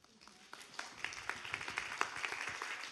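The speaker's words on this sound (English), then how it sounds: "We need to give them a round of applause." Faint, thin applause from a small audience at an education event on K-12 computer science, with distinct individual claps building in a quick irregular rhythm at a distance.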